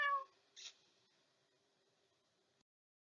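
A cat gives one clear meow at the start, then a second shorter call about half a second later. Both are fairly faint over a quiet background, with no talking.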